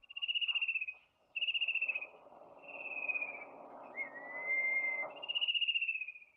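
A bird sings a series of clear, repeated whistled notes, each a drawn-out falling phrase with short gaps between them. A softer, buzzy chattering runs underneath, with no voices.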